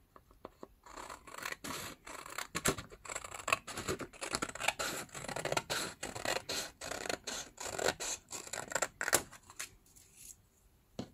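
Scissors snipping and trimming paper for a handmade Halloween folio, a long run of quick crisp cuts with soft rustling and scraping in between, close and fairly quiet.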